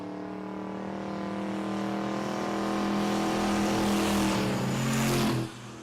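Chevrolet Silverado roars down the drag strip at Texas Motorplex, a loud sustained full-throttle engine howl that builds steadily before cutting off abruptly near the end.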